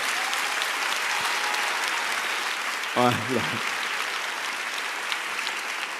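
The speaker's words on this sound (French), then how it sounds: "On applaudit Catherine." Theatre audience applauding at a mentalist's stage show, a steady wash of clapping throughout, with someone briefly speaking over it midway.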